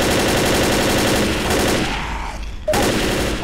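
Loud automatic gunfire in the zombie shooter Left 4 Dead, No Mercy campaign, sustained close rattling bursts that briefly thin out before a sharp resumption.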